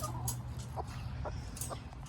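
A broody hen clucks low and faint in a few short, soft, spaced clucks over a steady background hum.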